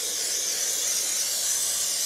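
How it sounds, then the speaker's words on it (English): Spray adhesive hissing steadily from an aerosol can onto upholstery foam for a footstool, a continuous close, bright spray with no pauses or talk. "use the spray adhesive"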